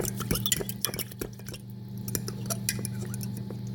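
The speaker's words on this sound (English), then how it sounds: "just stir it up" Soft, irregular scraping and clinking of a utensil against a pot of chicken stock with paprika, with a faint wet swish, close by and fairly quiet.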